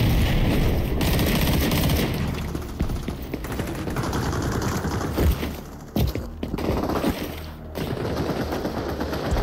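Rapid automatic gunfire from the video game XDefiant, with dense bursts of shots rattling nearly continuously and loud throughout, briefly dipping and then resuming.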